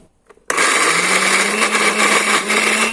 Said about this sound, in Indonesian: bawang sama jahe sudah saya potong-potong untuk mempermudah kerja si blender